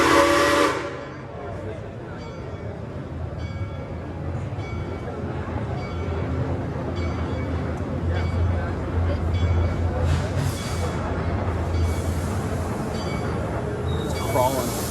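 A train at an amusement park rumbles along steadily with hissing steam and whistle-like tones, while people talk over it throughout.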